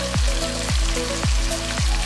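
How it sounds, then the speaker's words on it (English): Steady hiss of chicken sizzling in hot oil in a pan on high flame, with a few soft thumps recurring roughly every half second beneath the continuous crackle. "fry the chicken for 5 minutes on high flame"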